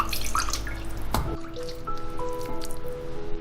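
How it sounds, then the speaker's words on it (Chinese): Water is squeezed out of washed pork ribs, a wet squish followed by a close patter of drips falling into water, quiet and alone. "洗成这样子就可以啦，然后把水分给它挤干。"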